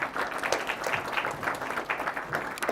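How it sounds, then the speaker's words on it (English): Moderate applause from a seminar hall audience closing a panel discussion, a fairly quiet, even patter of many hands over the whole stretch. "please join me in giving a big applause"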